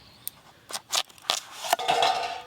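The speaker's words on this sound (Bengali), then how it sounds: "আমি পেঁপেটা কেটে নিই" A knife cuts through a very soft, unripe papaya in a few quick strokes, each a short crisp scrape or tap against the board, close and clear with no talk.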